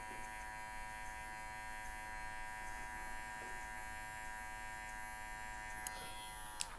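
Electric hair clippers hum steadily and close up through a bald fade haircut, a continuous even buzz with a couple of faint clicks near the end and no talking.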